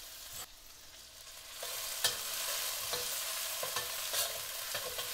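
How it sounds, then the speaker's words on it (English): Peppers and garlic frying in a pan over low-medium heat, a continuous bright sizzle with several sharper bursts as the food is stirred and moved, loud and close with no voice. "Now we're gonna start cooking the peppers and the garlic."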